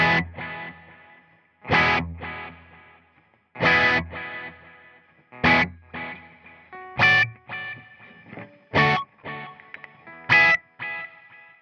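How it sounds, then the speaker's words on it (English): Electric guitar played through an Axe-FX III processor with delay added: a series of distorted chords struck roughly every second or two, each ringing out with audible repeats trailing into the gaps. "Scene 6 adds the delay."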